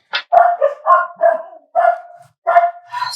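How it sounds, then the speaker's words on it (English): Dogs bark indoors at home, a close, loud run of sharp barks and yips in quick bursts with short gaps between them. "Stop barking at Hallie."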